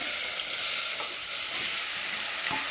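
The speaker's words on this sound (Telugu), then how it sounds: "టమాటాలు వేసుకొని తిప్పుకున్నాం." Tomatoes and curry leaves fry in a pan while being stirred, making a continuous close sizzle with a few soft spatula knocks, heard alone without talk.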